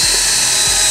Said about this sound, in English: so we're gonna get ready to drill our holes